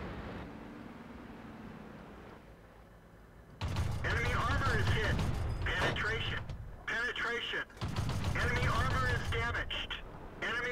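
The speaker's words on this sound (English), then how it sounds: "someone shooting from up there. All those shots. All bounced." Tank cannon fire and shell impacts in World of Tanks around a Panzer II J, quiet at first, then loud bursts of booming, clanking battle noise in several stretches with brief gaps between them.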